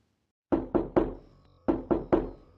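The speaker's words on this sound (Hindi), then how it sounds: "दरवाजे पर दस्तक हुई।" A door is knocked on in two sets of three firm, resonant raps, close and loud against silence, used as a horror-story sound effect.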